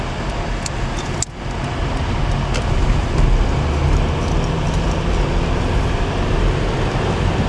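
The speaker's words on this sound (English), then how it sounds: "Got a little bit of a traffic jam up here." Steady car traffic noise in a traffic jam during a commute, a continuous loud broadband road rumble with a brief dip early on and no talking.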